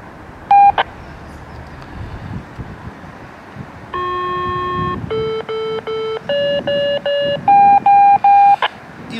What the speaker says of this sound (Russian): И слышим вот такой вот 10-тонный сигнал, который нам подает маяк.